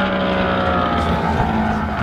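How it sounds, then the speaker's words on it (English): A snowmobile drives along a city street on race day, its engine a loud, close, rough drone that holds steady for a couple of seconds. "There's a snowmobile on the street."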